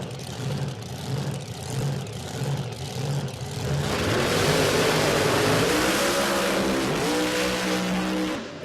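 A turbocharged drag car's engine burbles and pops on the two-step at idle, then roars up loudly as it launches off the line at a no-prep drag race and accelerates hard, revving through rising gears.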